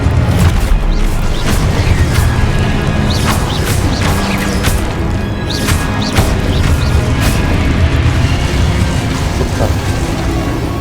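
Stupefy spell impacts in Hogwarts Legacy land as a dense run of booming crashes and sharp whacks over a constant rumbling bed, loud and busy throughout, with no voices.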